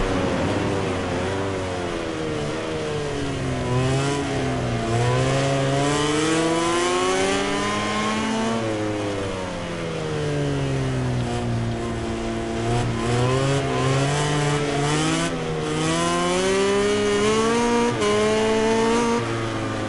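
Racing motorcycle engines in MotoGP 19 gameplay, loud close high-revving wails rising and falling repeatedly through gear changes and corners, continuous with no talk.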